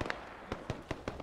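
Frag grenade blasts in Arma 3, set in a Vietnam War battle in Huế City: a quick run of about five sharp, booming bursts in just over a second, each cut off abruptly.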